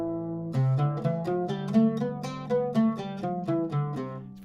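A Rast maqam scale plays on a single melodic instrument, one sustained note after another in a steady stepwise run lasting a few seconds, clear and close with no talking.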